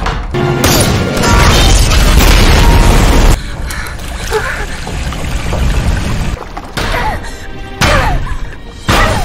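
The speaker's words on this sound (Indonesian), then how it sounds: "sniper Rusia langsung menembak perahu mereka hingga meledak" A boat blown up by a Russian sniper's shot gives a loud, heavy explosive boom with crashing debris, followed by a rumbling, splashing aftermath and further bursts of impact noise.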